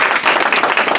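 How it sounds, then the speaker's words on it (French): Applause from an audience at a Guadeloupe chefs' trophy competition, honouring the jury president: a dense, steady patter of clapping over one second, close and fairly loud with no break. "On peut l'applaudir très fort."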